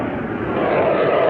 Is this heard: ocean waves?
no